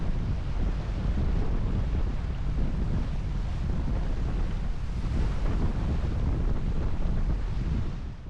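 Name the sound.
strong wind while sailing a boat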